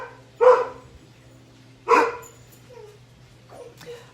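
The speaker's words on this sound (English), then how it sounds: "could you not bark right now, please?" A dog barks twice at close range, two loud sharp barks spaced about a second and a half apart, followed by softer whimpering yips in a quiet indoor setting.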